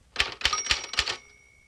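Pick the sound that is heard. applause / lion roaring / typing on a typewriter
typing on a typewriter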